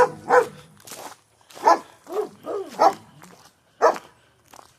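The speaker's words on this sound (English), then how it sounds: "they'll still bark at me just like this" Several dogs barking in bursts, loud and close, with short pauses between barks and a few higher yips.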